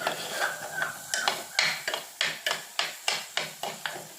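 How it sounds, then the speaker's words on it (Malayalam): Grated coconut roasting in a pan for a sardine curry, stirred with a spoon that scrapes in quick, regular strokes roughly three times a second, close and fairly quiet, with no talking. "നമ്മളത് കൈയെടുക്കാതെ ഒന്ന് ഇളക്കി കൊടുത്തുകൊണ്ടിരിക്കുക."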